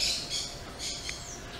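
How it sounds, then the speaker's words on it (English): Birds squawk in a garden at a pousada in Boiçucanga, giving repeated harsh, bright calls in short bursts that sound close and fairly loud, with no talking. "Lots of birds here."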